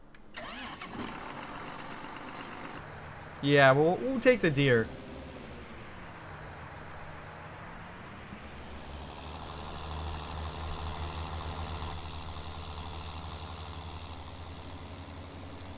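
A John Deere 7710 farm tractor in Farming Simulator 19 cranks and fires up, then settles into a steady low idle with a slight rev swell; someone talks briefly over it.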